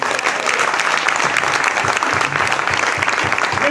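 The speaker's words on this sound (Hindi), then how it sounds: "इतना जोरदार तालियां।" A loud, close burst of audience applause at a poetry recital, with dense continuous clapping from a crowd and a faint murmur of voices beneath it throughout.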